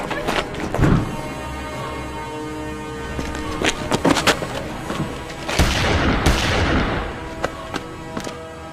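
Gunfire in a Hindi action film scene, with several sharp shots and booming blasts scattered across a dense soundtrack, including a loud burst near the middle, all alongside background music.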